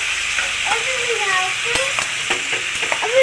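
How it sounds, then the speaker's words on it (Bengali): Fried potatoes stirred with masala, turmeric, green chillies and a splash of water in a pan, a loud continuous sizzle with scraping stirs and brief knocks, close up. "মশলা কষাতে কষাতে আগে থেকে যে ভাজা আলুটা আলুটাও দিয়ে দেবো"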